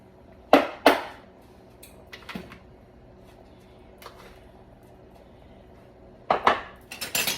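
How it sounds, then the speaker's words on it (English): Chopped collard greens going into a Portuguese caldo verde soup pot bring a few loud metallic clanks of a utensil against the pot, spaced apart with quiet stretches between them and no talking. "I'm going to put the collard greens that I cut up nicely all in."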